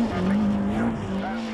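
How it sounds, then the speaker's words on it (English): Rallycross car at Lydden Hill in 1997, engine held at a high, steady wailing note at full speed on the circuit, loud and close with slight pitch wavers. "his car sounding absolutely spot on"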